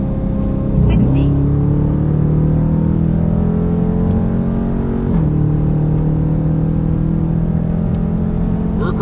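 A Dodge muscle car pulling hard from 60 to 130 mph, its engine droning loud and steady with rising pitch, briefly dipping at two gear shifts, with the roar filling the cabin throughout.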